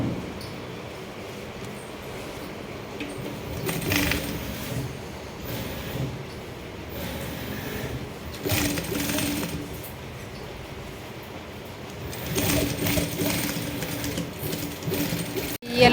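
Sewing machine stitching zip straps onto a golden yellow jute bag with a kalamkari cloth patch, running in repeated bursts of whirring stitches with brief pauses between them.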